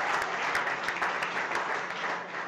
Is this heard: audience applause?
yes